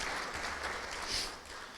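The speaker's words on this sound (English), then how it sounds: "So please give her a big round of applause." Faint applause from a luncheon audience at an alumni awards event, a short, soft burst of clapping heard from a distance.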